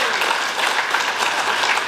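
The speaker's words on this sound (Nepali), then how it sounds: "र त्यसो अझ जोडले बजाउनुहोस् ताली" A crowd at a political rally breaks into a burst of loud, dense applause, steady and sustained across the short moment.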